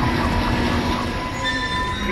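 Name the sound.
tram train car moving in Dead Space video game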